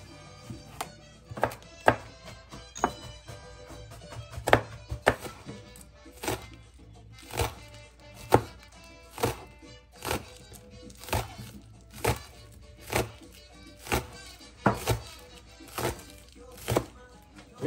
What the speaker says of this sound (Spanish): Tenemos también la zanahoria que vamos a picar y el pimentón. Todo esto lo voy a picar para luego licuarlo